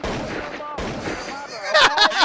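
A burst of loud gunfire cracks out near the end, over a steady noisy background.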